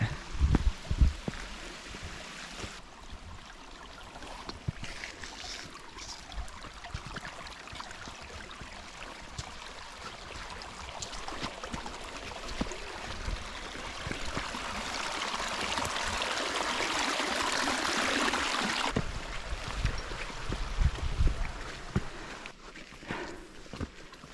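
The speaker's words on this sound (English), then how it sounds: "nice jungle stream here" A jungle stream rushes steadily over rocks nearby on a hill trek near Bangalore, with scattered crunching footsteps and a rising wash of noise in the middle.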